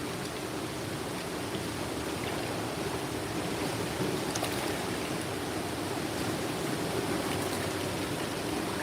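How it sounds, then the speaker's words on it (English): Flowing water rushes steadily near a fishing spot in Ontario, a broad, continuous churning wash with faint splashy ticks, sustained at an even level and heard alone. "Listen to that noise of the water"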